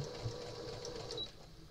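A sewing machine hums quietly and steadily at close range, a faint mechanical whir with no talking.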